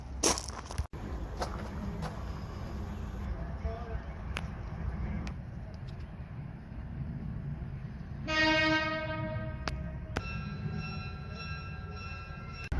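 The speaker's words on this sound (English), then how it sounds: "Alright guys, so I'm gonna ride the train." A historic park train at Allaire State Park rolls along with a continuous low rumble and rattle, then a loud horn blast sounds partway through, followed by further tonal horn or whistle notes.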